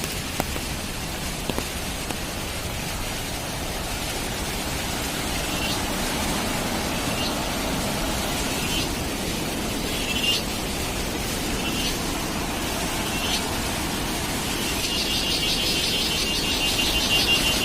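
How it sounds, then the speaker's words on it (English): Heavy rain falls near Palchuram Falls on a steep hairpin mountain road about 730 meters up, a steady dense hiss that holds even and fairly close throughout with no voices. "There is heavy rain you can see."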